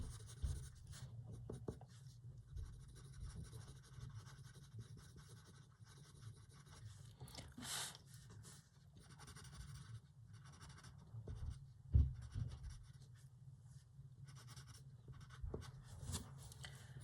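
Coloured pencil burnishing paper, a faint, close, continuous scratchy rubbing with small strokes and occasional soft taps.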